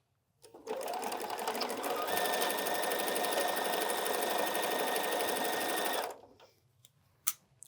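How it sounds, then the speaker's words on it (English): Sewing machine stitching quilt block fabric, a steady rapid mechanical whir running for about six seconds, then stopping, followed by a small click. "I'm going to go sew this"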